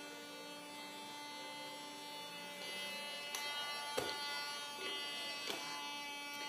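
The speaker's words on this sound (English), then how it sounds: "Is Alfie helping vacuum?" A household vacuum cleaner runs with a steady, fairly close buzzing whine, broken by a few soft bumps and knocks as it is pushed along, with no one talking.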